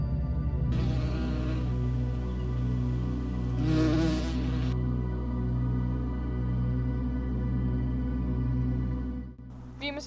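Honeybees buzz steadily and fairly close for about ten seconds, a continuous droning hum with a few louder swells partway through, with no talk over it.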